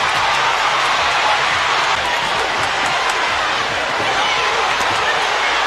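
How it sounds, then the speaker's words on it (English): Arena crowd roaring steadily throughout a women's fight, a dense continuous wash of cheering and shouting with no breaks, loud and close. "The crowd is going wild."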